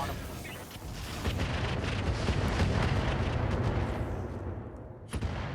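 Mech turret weapons fire in the BattleTech game, a dense run of booming, rumbling shots and blasts that swells after the first second and holds steady, with a sharp hit near the end.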